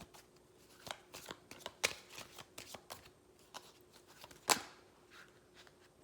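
Angel guidance tarot cards are shuffled by hand in a series of quick riffling, flicking bursts of varying loudness, close up in a quiet room with no talking.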